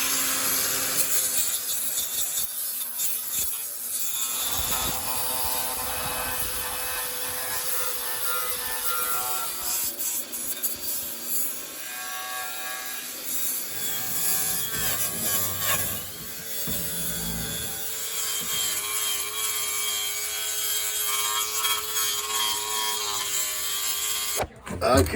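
A wire wheel on a power tool strips rust from the wheel arch of a 1971 VW Squareback, giving a loud, harsh abrasive whine that rises and falls in pitch as the brush works the metal.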